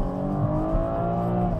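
BMW M135i with a stage 1 tuned turbo engine revving, a loud, steady engine roar close by with no talk over it.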